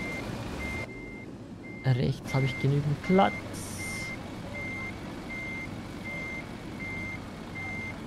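Truck reversing beeps in the Trucks & Trailers driving game, a regular series of evenly spaced electronic beeps over a low engine rumble, with someone speaking briefly partway through.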